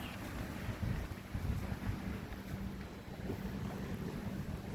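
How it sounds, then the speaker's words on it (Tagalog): Steady outdoor wind roaring and buffeting against a microphone during an early-morning walk, a continuous broadband rush with low-end rumble and gusty swells throughout, no voices. "Mahangin siya."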